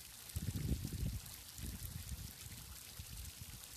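A fountain's running water streams and splashes steadily, with a soft continuous pour and low gurgling pulses, close and fairly quiet, with no voices over it.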